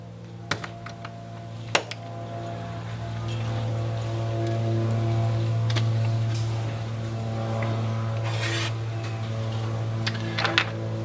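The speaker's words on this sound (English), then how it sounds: "just trim them up, just take that little bit of flashing off" Small clicks and snips ring out as plastic flashing is trimmed from RC car drive shaft blades, sharp sparse ticks near the start and end over a low steady hum, close by.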